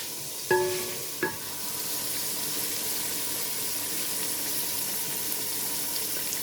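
Onion, garlic and ginger fry in a pan with a steady, close, hissing sizzle that lasts throughout, opened by a couple of sharp clanks from stirring or adding the ingredients.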